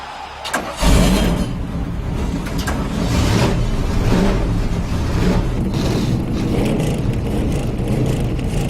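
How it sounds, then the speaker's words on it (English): Race car engines start up at once after a sharp onset, then a loud, steady mechanical roar with rising revs holds for several seconds at close range, and no one speaks. "Gentlemen, start your engine!"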